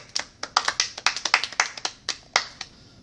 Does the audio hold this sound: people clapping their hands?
yes